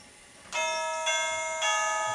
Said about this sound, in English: It has a doorbell.